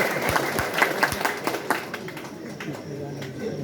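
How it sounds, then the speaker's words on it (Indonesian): Audience applause at a church gathering honouring a newly ordained priest in Indonesia, a burst of scattered clapping from a crowd that thins out over a few seconds, with some voices mixed in. "Tepuk tangan untuk"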